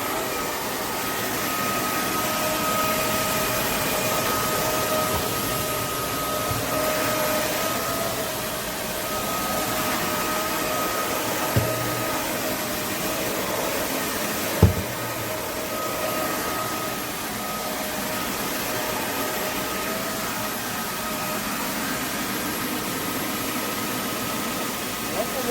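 A roborock F25 RT cordless wet-dry vacuum cleaner runs in max mode, a steady loud close-up whooshing whine with a couple of faint clicks along the way.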